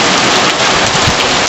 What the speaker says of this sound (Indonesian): berbarengan dengan hujan rintik-rintik